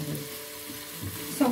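Dry spice powders sizzle softly in a pan for a cauliflower and lamb curry as they are stirred in, with a short, close frying hiss and a brief scrape at the end.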